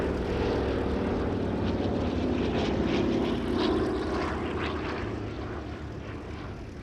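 Steady droning roar of a Douglas DC-3 Dakota piston-engine propeller airplane in flight, loud and continuous, with a low throbbing hum and no voices.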